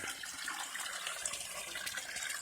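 Fresh well water runs steadily into a crawfish tank, a constant close splashing and trickling flow with no voices.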